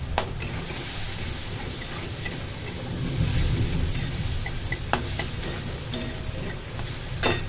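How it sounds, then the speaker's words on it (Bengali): Spices and sour local tomatoes sautéing in a pan on a home stove, a continuous close sizzle with occasional clinks and scrapes of a spoon stirring, no voices. "এই মশলা দিয়ে কষিয়ে নেবো টমেটো দিয়ে"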